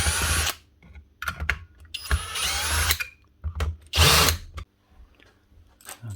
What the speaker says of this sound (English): and unscrew the machine